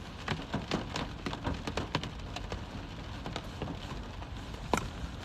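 Steady rain falls outside, a dense wash of patter with scattered louder drops striking a surface, moderately loud throughout with no talk.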